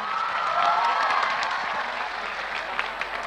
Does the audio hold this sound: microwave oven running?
no